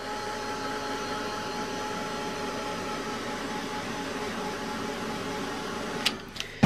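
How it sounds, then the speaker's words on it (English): A heat gun blows steadily over a mixed media box, a close, even whooshing roar of hot air that runs uninterrupted before cutting off with a few clicks and knocks at the end. "Now take a heat gun and very, very gently zap it with a heat gun."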